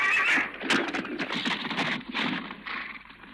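A white horse neighs close by, a loud, wavering whinny that rises and falls over a few seconds, with light hoof clatter mixed in.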